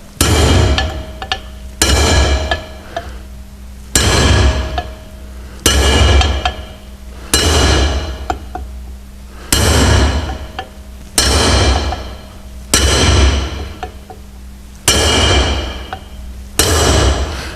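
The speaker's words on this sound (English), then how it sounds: "So now we're going to take each stud in sequence and start drifting them down in turn." Repeated sharp, ringing hammer blows drift steel wheel studs into a new brake drum's original hub, nine loud metallic strikes spaced about two seconds apart, each followed by a brief bright decay with no talking.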